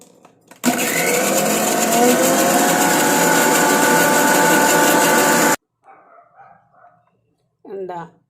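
A kitchen mixer grinds nigella seeds and fenugreek with rice water, a loud steady whirring roar of about five seconds that stops abruptly, followed by brief quiet speech.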